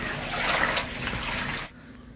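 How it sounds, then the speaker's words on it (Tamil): Dirty water splashes and trickles steadily while being removed from a water tank during cleaning, a close liquid wash that cuts off abruptly near the end, with no talking. "இந்த தண்ணி வந்து ரொம்ப அழுக்காக இருக்குது அதனால் இந்த தண்ணியை நான் எடுத்துடலான்னு இருக்கேன்"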